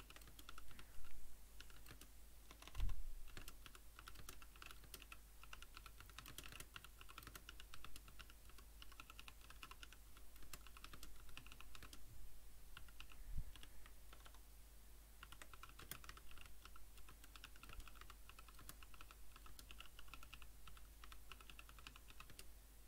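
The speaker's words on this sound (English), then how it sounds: "Hear the clicks of my keyboard. Keyboard tapping ASMR." Continuous clicking of a computer keyboard being typed on at close range, a steady patter of keystrokes with a few louder taps, no voices.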